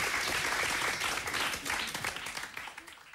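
A studio audience at a 2000 VIVA Interaktiv music TV broadcast applauds a singer with dense, steady clapping that gradually thins and fades toward the end.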